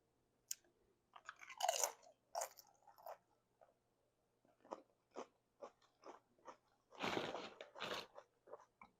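A basic tortilla chip loaded with fresh pico de gallo is bitten and chewed close up, giving a series of crisp, irregular crunches with a couple of louder bites amid quiet pauses.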